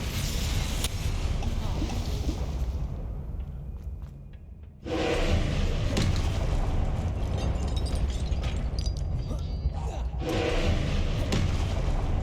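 Spell attacks fired during a Hogwarts Legacy boss fight, heard as a dense, loud run of booming thuds and blasts with a brief drop before the barrage resumes, under a voice chanting spell names.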